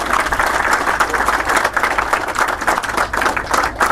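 An audience at a student award ceremony claps for a prize winner, a loud, close, dense burst of applause lasting several seconds with individual claps standing out.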